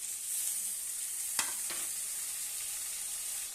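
Tomato and onion fry in a pan with turmeric, giving a steady soft sizzle throughout, with a couple of brief clinks or stirring taps near the middle.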